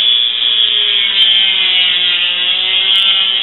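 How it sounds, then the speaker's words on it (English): A tool cuts through the hard plastic of a clothing security tag, making a loud, continuous, high-pitched grinding whine with a steady tone throughout, very close. "So it's slicing nicely through the plastic."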